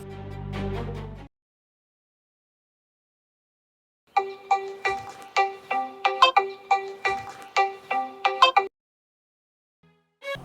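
A phone ringtone plays a repeating melodic pattern of bright tones for several seconds after a brief burst of another sound, then stops, with silence around it.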